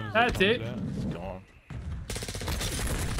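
A rapid burst of video-game gunfire rattles out after short spoken exchanges between players. The shots form a dense, fast rhythm that is loud and close and continues to the end.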